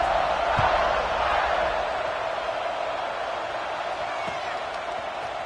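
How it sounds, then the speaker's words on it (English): A football stadium crowd at Florida vs Notre Dame buzzes after a score, a dense, steady roar of voices filling the space without distinct peaks, with a commentator talking over it. "this crowd is buzzing after that last score"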